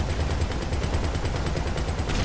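Rapid gunshots in the video game GTA, fired in a dense, even rattle like automatic fire over a heavy rumbling background, loud and continuous throughout.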